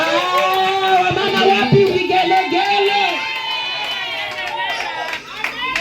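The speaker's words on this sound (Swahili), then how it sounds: "Wamama wapi vigelegele?" Women ululate in a church service during a Women's Day gathering, high trilling vigelegele rising over a lively crowd with cheering and chatter, loud and continuous throughout.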